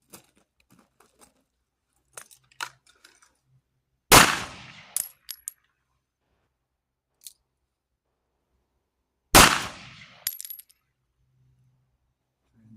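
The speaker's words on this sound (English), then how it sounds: "So I'm going to draw, take 2 shots, and then transition to weak hand and take 2 shots." Pistol shots at a shooting practice, fired first two-handed and then with the weak hand after a transition: two sharp, loud, broadband cracks about five seconds apart, each followed by brief clatter. Quiet handling noises come in between.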